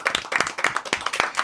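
Brief, close clapping from a small studio audience on a French film podcast, applauding the control room crew in quick, uneven bursts for about a second and a half.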